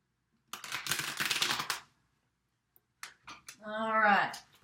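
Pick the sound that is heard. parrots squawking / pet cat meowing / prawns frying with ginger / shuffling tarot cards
shuffling tarot cards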